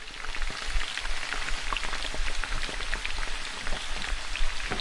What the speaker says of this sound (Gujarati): રાઈ જીરું કકડી જાય એટલે જે મરચાંને કટ કરી રાખ્યા હતા તે એડ કરીશું